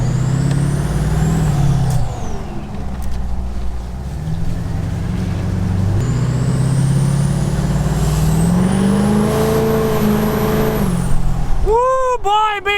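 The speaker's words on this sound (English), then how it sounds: "the audible pleasure that comes along with the Dan 64mm VGT turbo" Diesel truck engine fitted with a 64mm VGT turbo, a loud steady rumble with rising turbo whistle and spool across the run, ending in rapid chirping flutter bursts.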